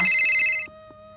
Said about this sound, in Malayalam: മോനെ നിന്റെ ഫോൺ കിടന്ന് വല്ല അടിക്കുന്നടാ